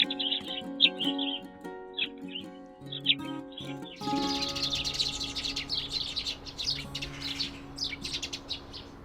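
Small birds chirp and tweet at a smart camera bird feeder, with quick high calls close by over soft background music, growing into a busier, denser chorus halfway through.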